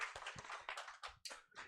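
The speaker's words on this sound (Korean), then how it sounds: "우리 친구 박수 쳐줄게요." Children at a Sunday children's worship service clap for a classmate, a short burst of several claps in quick uneven rhythm, close and fairly quiet, with no voices over it.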